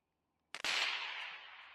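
A rifle shot fired at a 200-yard target rings out sharply after a short silence, a loud crack followed by a long decaying echo, alone without talk.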